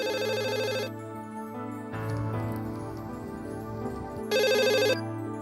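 An electronic telephone ringtone plays in loud tonal bursts, pausing briefly and then ringing again, with a rougher stretch of sound between the rings.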